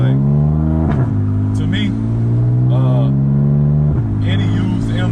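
A BMW F80 M3 engine runs with a strong, steady drone, climbing briefly in pitch as it revs. Someone talks over the engine noise throughout.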